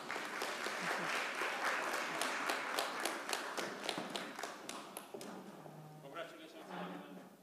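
An audience at a Kenyan investment deal signing claps in a dense, close burst of applause that thins out after a few seconds, while a voice speaks over the tail.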